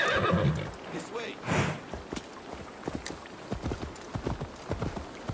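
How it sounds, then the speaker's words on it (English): Donkeys in the Assassin's Creed Valhalla video game, a loud braying call followed by a series of hollow hoof clops walking at an uneven pace, close by, with people talking over parts of it. "Oh, the donkeys!"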